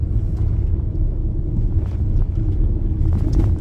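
A manual-transmission car creeping along slowly in second gear on bad roads in poor weather, its engine a steady low rumble with road and wind noise continuous throughout.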